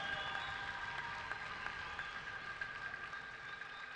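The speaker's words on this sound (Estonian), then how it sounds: "Teeme veel kord suure aplausi meie eelviimase matši võitlejatele." A crowd at the combat sports gala The Clash nr.1 applauds the fighters after a match. The clapping is faint and diffuse, with a steady tone held underneath throughout.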